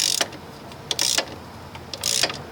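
Ratchet with a 1/2 inch socket working bolts on an aluminum chain-adjuster piece of a Polaris Scrambler 500 ATV, heard as three close, crisp bursts of rapid clicking separated by short pauses, with no talk.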